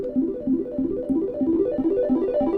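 Synth arpeggio shaped by a heavily low-passed square wave, with reverb and chorus, plays a steady rhythmic pattern of warm, muffled pulses repeating about every third of a second, alone and fairly loud.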